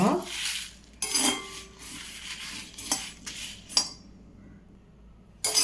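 Coriander seeds dry-roasting in a pan, with rattling, clinking stirs and scrapes of a spoon against the metal in a few bursts, close up, then quiet gaps.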